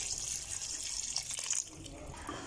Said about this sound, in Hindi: अब हम इसमें 1 कप पानी ऐड करेंगे।